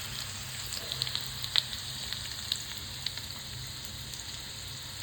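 Small fish frying until crisp in hot oil, a steady close sizzle with scattered pops and crackles throughout, no voices.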